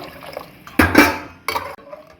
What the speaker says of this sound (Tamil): இருந்ததை ஜாரை வந்து கழுவிட்டு அந்த தண்ணியை ஊற்றிட்டு இப்போது நார்மல் வாட்டரையும் சேர்த்துக்கலாம்